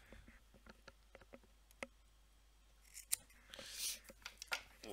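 Small scissors snip the wire leads on a rebuildable deck of a TFV12 Prince vape tank, giving a series of faint, sharp clicks and snips close up, with quiet speech and handling noise around them.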